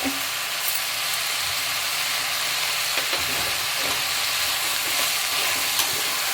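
Potatoes sautéing with salt in a pan for vegetarian brinji rice, a loud steady sizzle with a constant hiss and occasional scraping stirs, no voices.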